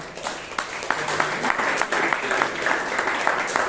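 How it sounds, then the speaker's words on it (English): An audience at a Toastmasters meeting in Bangalore claps steadily in a moderately sized room, a broad patter of many hands with a few sharper individual claps standing out. "So please give Sheeb Kumar a wonderful applause for"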